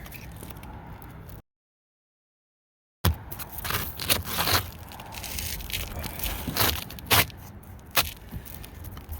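A roofing shingle being cut up close, with rough scraping and crunching strokes, a brief gap of silence, then a burst of irregular crackly cuts and sharp snaps.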